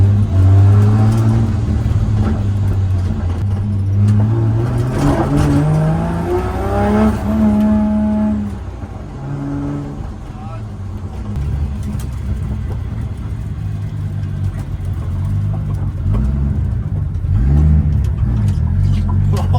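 Nissan R32 drift car with an RB25DET engine, street drifting: a loud, close engine revs and rises in pitch, falls back, then climbs again in sustained bursts of acceleration, with no talk over it.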